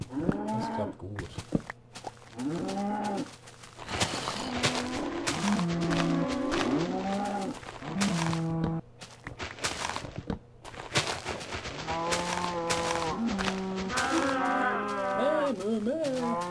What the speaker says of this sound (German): Hört auf zu meckern, Kühe.